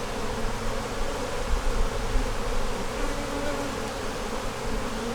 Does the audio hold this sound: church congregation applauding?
no